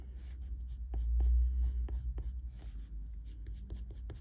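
A small pencil colouring on paper makes soft, quick scratchy strokes in short bursts, faint and close, with a low background hum.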